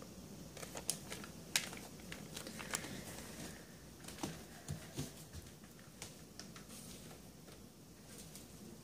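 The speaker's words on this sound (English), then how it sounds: "Crinkly bag." A crinkly bag is handled up close as an ASMR trigger, giving quiet, irregular crackles and sharp little taps scattered over a soft background.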